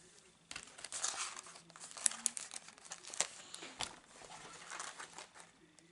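Crinkly plastic packaging of flower-shaped masking tape is handled close up, giving a steady run of rustling and crackling with sharper snaps, faint and continuous for several seconds.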